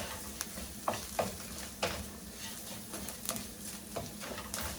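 Red chili pepper flakes tossed in a hot pan while cooking mushroom risotto: a soft, steady sizzle broken by several sharp clicks and taps from the pan, quiet and close, with no talk.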